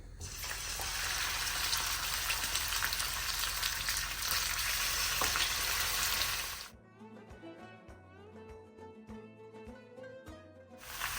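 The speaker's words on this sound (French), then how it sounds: "Et je vais faire revenir mes souris d'agneau dans l'huile d'olive" Lamb shanks sear in hot olive oil with a loud, steady sizzle for about six seconds. The sizzle then cuts off abruptly and light music with a soft rhythmic beat follows.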